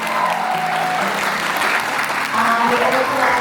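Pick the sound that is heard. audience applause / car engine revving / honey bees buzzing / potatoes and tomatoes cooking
audience applause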